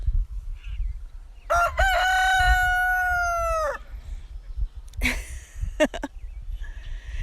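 A rooster crows on a farm, one long clear cock-a-doodle-doo held for about two seconds and loud and close, followed by short clucks and calls from other fowl.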